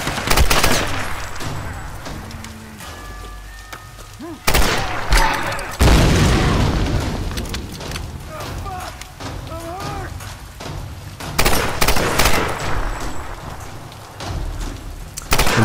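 Explosions and rapid gunfire from a Tomb Raider Definitive Edition firefight, with loud booming bursts and crackling shots repeating throughout, over continuous rumbling game noise.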